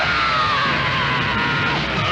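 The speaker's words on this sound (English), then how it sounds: "Another scream of joy emanating from another satisfied, ecstatic listener" A loud, sustained scream of joy plays as a sound effect on a talk radio show, filling the whole stretch with a rough, continuous yell and no talk over it.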